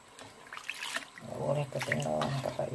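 Water splashes and swirls while a blender jar is rinsed after grinding spices for a fish and fern-shoot curry, a short burst of running, sloshing water close by, with a voice murmuring under it.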